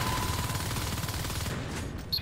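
Sustained gunfire in the sci-fi shooter Natural Selection 2 as Marines fire on an alien hive, a dense continuous rattle of weapons that stays loud and steady throughout.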